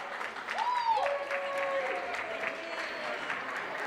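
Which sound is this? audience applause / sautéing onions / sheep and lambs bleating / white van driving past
audience applause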